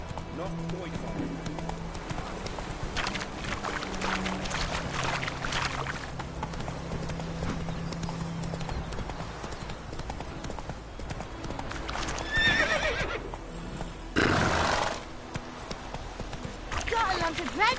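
Roach, Geralt's horse in The Witcher 3 video game, gallops with rapid rhythmic hoofbeats and lets out a loud neigh, while in-game voices and a player talk over the galloping.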